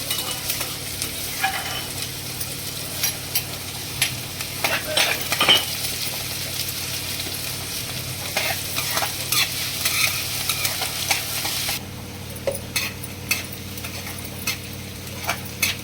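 Garlic added to a pan with chopped onion sizzles steadily while being stirred, for fenugreek seed curry (methi dana nu shaak). Close, continuous frying hiss with frequent scraping and clinking stirring strokes.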